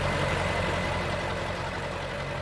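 Tow truck engine idling nearby, a steady low rumble holding even and unbroken throughout.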